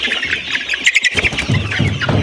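Chickens in a layer poultry farm make a dense, continuous chorus of high chirps and clucks, loud and close, with scattered rustling underneath.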